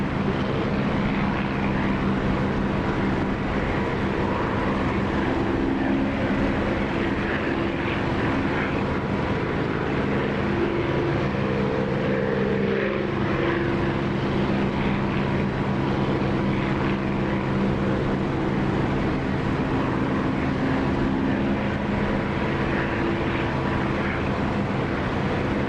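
Propeller aircraft in the flight simulator game DCS taking off, a loud, steady engine drone with a throbbing propeller tone that shifts pitch slightly as power builds, continuous and close throughout.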